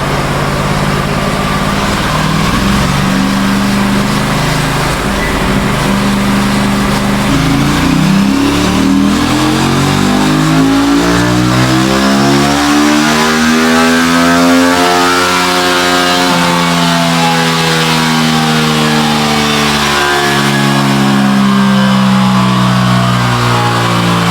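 An Aprilia RS 457 motorcycle engine revs hard on a dyno run in fourth gear, climbing steadily through the revs toward about 9200 rpm, then easing off, loud and close throughout.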